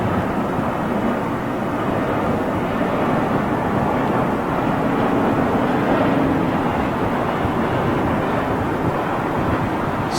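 A Lufthansa airliner at London Heathrow Airport at sunrise passes as a broad, continuous roar of jet engine noise, steady and fairly distant, with no voices.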